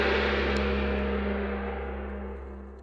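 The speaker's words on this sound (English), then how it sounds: "Then he bonged a Chinese gong." A Chinese gong rings out from a single stroke, its low, sustained resonant tone filling the space and slowly fading over a few seconds, with no other sounds present.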